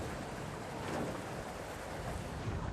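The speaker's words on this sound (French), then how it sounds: "Seul le bruit du vent dans la voile est perceptible." Wind rushes across the sail of a windfoil board speeding over the open Gulf of Gabès, a loud, steady buffeting roar with no voices.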